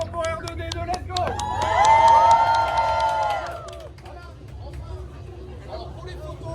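A crowd at a Star Wars Day event at Disneyland Paris cheers and claps for R2-D2. The excited shouts swell to a peak and then fade, with voices and chatter mixed through the noise.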